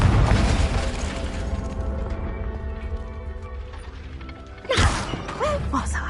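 A Confringo fire spell from the Hogwarts Legacy video game goes off in a booming burst with heavy thuds and mechanical creaks, then fades before a second loud blast hits near the end.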